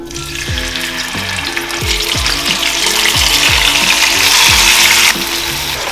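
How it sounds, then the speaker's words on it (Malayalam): Chicken fries in oil with bay leaf and whole spices over high flame, a loud, continuous sizzle that builds then eases slightly, under a rhythmic, repeating tonal backing. "ഹൈ ഫ്ലെയിമിൽ ഓപ്പണിൽ വെച്ച് ഒരു 5 മിനിറ്റ് ഇത് ഇങ്ങനെ കുക്കാവട്ടെ"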